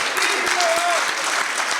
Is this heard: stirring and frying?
no